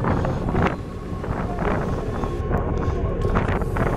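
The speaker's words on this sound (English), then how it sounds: "So here I am right now on the boat" Steady rushing wind and engine-like rumble on a moving boat headed to Shodoshima, with water noise and occasional gusts buffeting the microphone.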